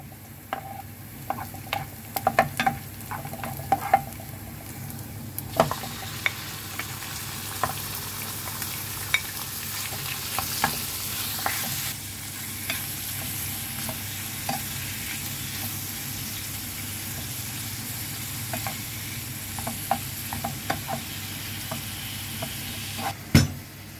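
Meat and onions fry in a pan with a steady, even sizzle throughout, broken by scattered pops and crackles and occasional stirring scrapes.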